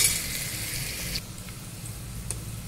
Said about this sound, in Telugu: ఎర్రగడ్డలు బాగా వేగనిచ్చి